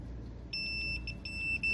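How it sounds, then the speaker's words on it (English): A thin, high electronic beep from a multimeter continuity test cuts in after a pause and holds steadily, briefly breaking up in short pulses; faint background hum, no voices. "we're on continuity. We want beep sound."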